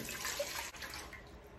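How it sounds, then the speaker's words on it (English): Water pours steadily into a pot for Hawaiian-style pickled mango brine, a faint, continuous splashing stream heard alone. "in that pot, you're gonna add in 2 cups of water"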